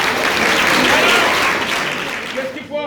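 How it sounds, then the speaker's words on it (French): Loud, dense applause from an audience cheering young dancers after an African dance; the clapping is sustained and close, then fades at the end as someone begins talking. "On peut les applaudir très fort"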